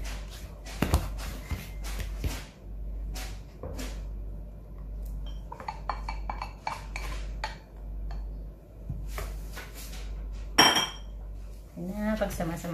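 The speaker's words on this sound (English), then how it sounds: "So now combine the dry and wet ingredients together." Dry and wet ingredients for chocolate crinkle batter are combined in a bowl, giving close, irregular clinks and scrapes of utensil against dish, with a louder clatter near the end and a hum underneath.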